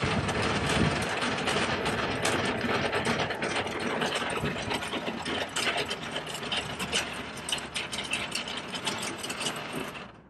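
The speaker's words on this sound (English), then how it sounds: "So basically the same process when lowering the landing gear." A trailer's landing gear being cranked down by hand, giving a steady run of rapid clanking and ratcheting mechanical clicks that stays loud and close for about ten seconds, then stops abruptly.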